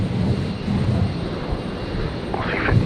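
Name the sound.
Virgin Boeing 737-700 taking off at Brisbane airport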